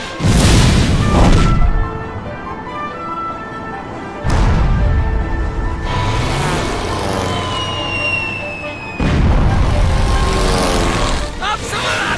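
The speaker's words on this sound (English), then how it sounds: "Now, men! Prime the cannons!" Booming cannon shots from the game Ni no Kuni, three heavy blasts spaced several seconds apart, each followed by rumbling and scattered crashes, with music-like tones in between.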